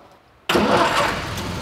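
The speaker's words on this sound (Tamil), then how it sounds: "இப்போ ஸ்டார்ட் பண்ணாலும் ஸ்டார்ட் ஆகும்" A vintage Plymouth car engine, roughly a century old, catches abruptly after a brief quiet moment and settles into a loud, steady, full-bodied running rumble close by.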